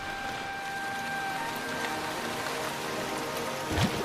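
Steady, dense tropical rain in Sabah, Borneo, hissing down across the whole clip, a continuous wash of drops with a faint low thump near the end.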